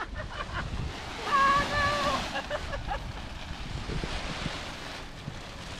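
Wind rushes steadily past during a paragliding flight, a broad, constant roar of buffeting air with a brief faint whistle-like tone early on.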